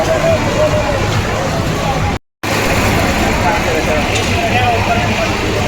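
A passenger boat at a fair, driven by a fitted truck engine: a continuous loud rumbling drone with crowd babble and talking over it, broken by a brief dropout partway through.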